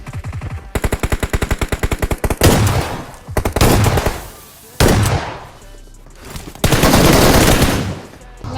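An enemy squad unloads rapid automatic gunfire in a shooter video game: a fast, even machine-gun rattle, then several loud, dense bursts of sustained shooting broken by short pauses, up close and without voices.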